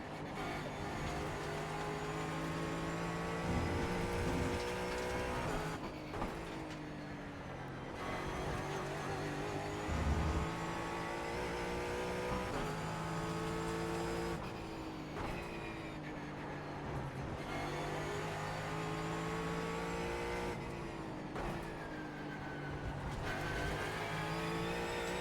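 Ford Mustang GT4 race car engine at Brands Hatch in iRacing, a loud continuous engine drone rising and falling through gear shifts, with steady revving and brief lifts off the throttle across the lap.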